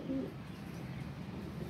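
A pigeon gives a single short, low coo near the start, then only faint outdoor background remains.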